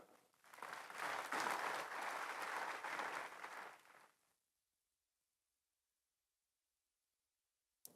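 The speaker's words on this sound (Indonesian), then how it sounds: "Boleh kalau mau tepuk tangan" A church congregation breaks into applause, rising quickly into several seconds of loud, dense clapping that cuts off abruptly into silence, with a brief click at the very end.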